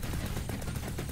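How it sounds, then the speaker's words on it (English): Machine gun fire in a flying bullet-hell metroidvania video game, a rapid stream of short, evenly spaced shots, close and continuous for about a second. "Okay, blast him. There. Machine gun."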